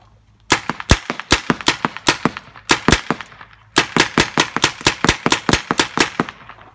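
Gunshots crack in rapid, fairly even bursts, about two dozen sharp, loud reports. A short pause splits them into two strings.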